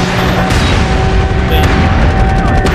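Airstrike blasts in an online military shooter, heavy booms and rumbling detonations packed with gunfire crackle, loud and close, with voices under the battle noise.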